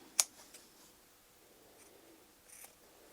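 Scissors trimming small protruding fabric corners off quilt pieces, one sharp close snip at the start, then a few faint cuts with quiet pauses between them.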